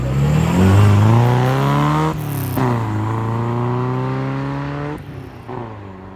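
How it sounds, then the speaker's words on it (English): An MGB GT's four-cylinder engine revs with a raspy exhaust note, climbing and falling in loud, close sweeps, briefly dipping between rises before settling at a steady drone. "the sound you get out of the back is a bit more of that sort of raughty, raspy 4-cylinder sounds that you get from cars of this period"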